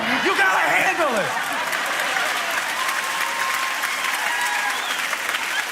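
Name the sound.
audience clapping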